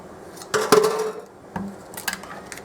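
Utensils clatter against a pot or dish while baked ziti ingredients are mixed, with a few sharp metallic clinks and scrapes in short bursts and quieter scraping between them.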